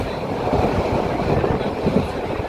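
Train between Cox's Bazar and Chattogram heard from inside the carriage, a dense steady rumble and rattle of the moving coach, fairly loud and unbroken.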